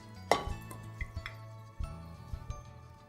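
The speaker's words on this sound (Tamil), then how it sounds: "இப்போது அடுப்பில் ஒரு குக்கரை வச்சுட்டு அது கூட நம்ம இந்த 1/2 கிலோ மட்டனை சேர்த்துக்கிறோம்" Half a kilo of mutton pieces dropped into a pressure cooker on the stove, one sharp clattering thud followed by lighter knocks and clinks of meat against metal, near and alone with no talk.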